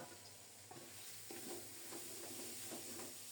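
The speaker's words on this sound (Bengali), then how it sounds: "এবার চাউলগুলোকে চুলাটা একটু বাড়িয়ে দিয়ে নেড়ে ছেড়ে ভেজে নেব" Soaked aromatic polao rice with cumin paste and salt stirred and fried in a pan over raised heat: a steady soft sizzle with repeated scraping strokes of the spoon, quiet and close, no talk.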